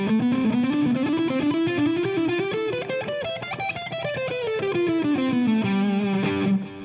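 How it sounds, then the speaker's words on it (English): A distorted electric guitar plays a G Mixolydian scale, rising note by note and then descending back down, with a sustained fuzzy tone throughout. "I know that my Mixolydian is going to be starting on G"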